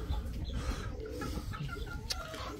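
Chickens cluck softly and intermittently in a quiet yard, faint scattered calls over low background noise.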